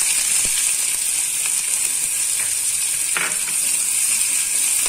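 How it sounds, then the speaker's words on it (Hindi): Green chillies and onion sizzle in hot oil with garlic for a whole black masoor dal, a steady broad frying hiss running throughout with a few faint stirring clicks and no talk. "इसमें डाल देंगे हरी मिर्च और प्याज डाल देंगे।"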